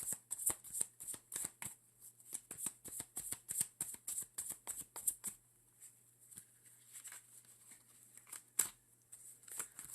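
Tarot cards being shuffled by hand in quick bursts of crisp riffling flutter, close and fairly quiet, with a rapid run of strokes followed by a few slower, scattered shuffles and a steady low hum underneath.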